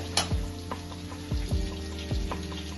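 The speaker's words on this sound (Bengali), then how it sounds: "রসুনটা অল্প একটু ভাজা ভাজা হবে।" Chopped garlic fries in oil over a low gas flame, giving a soft, steady sizzle broken by a few dull knocks of a utensil against the pan.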